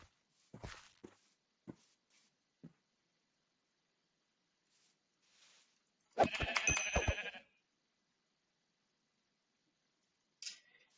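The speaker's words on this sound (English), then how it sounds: "I get the feeling that there's more sheep over here that need to be killed." Sheep bleating in the Minecraft-style game Hungry World: a loud, close, shaky bleat rises alone after a few soft footstep-like taps, with a brief faint sound near the end.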